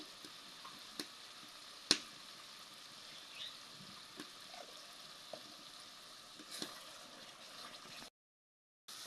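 Spices sizzle steadily in hot oil for a Chitol fish cutlet, a close, even frying hiss dotted with sharp crackles and pops, then a brief break near the end.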